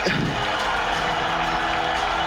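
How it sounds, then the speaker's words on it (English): Loud stadium crowd at a Dota 2 EPICENTER Major esports match, roaring and cheering continuously with a few whoops rising above a dense, steady wall of noise. "You can hear the crowd, man."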